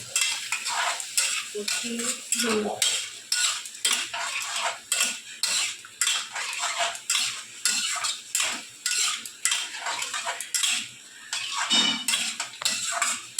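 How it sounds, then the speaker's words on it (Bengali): Ground spice paste being stirred and fried in a pan, a spoon scraping rhythmically and continuously against the metal over a low sizzle, loud and close with no talking. "দেখো মশলাটা এবার দিয়ে দিচ্ছি, দিয়ে ভালো করে কষিয়ে দিচ্ছি"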